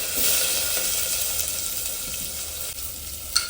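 Onion sizzling as it hits a hot pan of oil already holding cumin seeds, curry leaves and garlic; a steady close frying hiss runs throughout with a small clink near the end.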